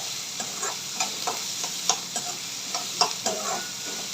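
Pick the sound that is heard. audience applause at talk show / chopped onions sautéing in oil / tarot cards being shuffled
chopped onions sautéing in oil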